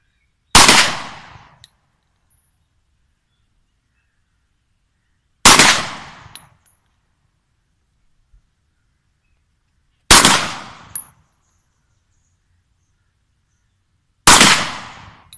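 Four single pistol shots from a 7.62x25mm handgun crack out at an outdoor range, each a loud sharp report with a short decaying tail, spaced about five seconds apart with silence between.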